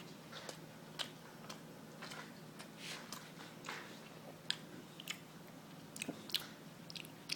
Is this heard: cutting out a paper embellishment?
no